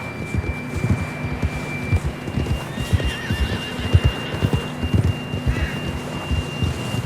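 A horse whinnies loudly amid steady clip-clopping hooves in the Western video game Red Dead Redemption 2, with a low hum running underneath throughout.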